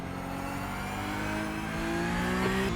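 Race car engine in the iRacing sim, held at steady high revs through a final corner, with a sustained whining drone that swells slightly louder toward the end; no voices.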